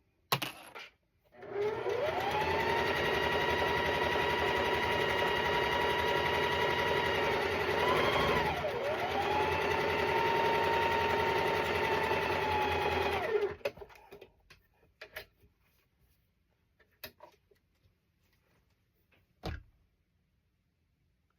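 A sewing machine chain stitching quilt blocks together with sashing runs steadily for about twelve seconds with a brief slowdown midway, then stops, leaving faint handling clicks.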